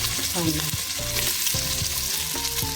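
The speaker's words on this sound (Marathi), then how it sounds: "कांदे 2 घेतले, मोठे 2 मोठे कांदे. आता ते परतून घेऊ." Onions frying in oil with whole spices like peppercorns, cloves, cinnamon and bay leaf for chicken biryani, a close steady sizzle with scraping stir strokes from a spatula, no talk.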